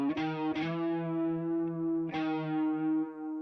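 Electric guitar played through an amp rig with the low end scooped out, heavily effected with chorus and echo; sustained chords ring out, restruck a few times, alone and upfront.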